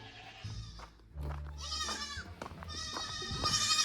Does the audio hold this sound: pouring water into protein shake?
no